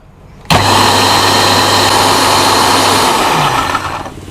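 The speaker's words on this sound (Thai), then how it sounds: "ปิดฝา แล้วก็ปั่นครับ" Blender whirring through pickled garlic cloves and water, switching on abruptly with a loud steady high-pitched motor roar that runs about three seconds before winding down.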